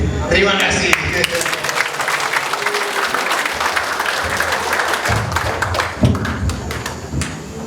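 Audience applause at an employee recollection retreat for a savings and credit cooperative, dense continuous clapping from a room full of people, loud and steady throughout, with a voice faintly speaking over it.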